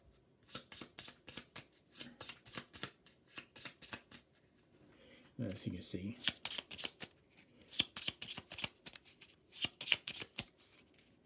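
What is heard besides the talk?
shuffling playing cards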